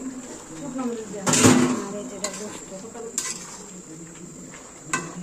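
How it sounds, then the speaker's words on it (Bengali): Potato bhaji (aloo bhaji) cooking in a pan on an electric stove, a faint sizzle with a few sharp spoon-on-pan clinks and stirring scrapes while a voice talks nearby. "আলু ভাজি করে"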